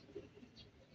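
A racing pigeon that has just flown back to its loft gives a faint, brief, low coo once or twice against quiet background hiss.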